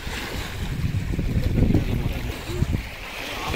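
Water released from the Ponmudi dam in Kerala rushes in a broad, roaring wash, with gusting wind buffeting the microphone.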